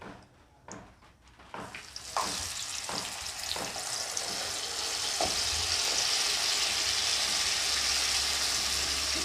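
Blended spice paste for sambal balado hits hot oil in a pan, starting with a few sharp clatters and then building into a loud, steady, continuous sizzle with no talking.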